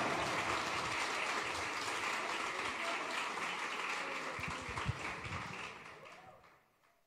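A church congregation claps and cheers in a dense, sustained wash of applause that holds steady for several seconds, then thins out and fades toward the end.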